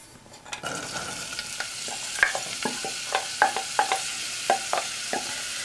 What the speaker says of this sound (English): I'm just going to add 2 tablespoons of olive oil so that we can saute the onions